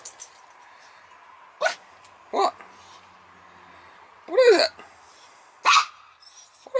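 A dog waiting at an air conditioning service call gives several separate short barks and whimpers, spaced a second or more apart and fairly close, with quiet background between them.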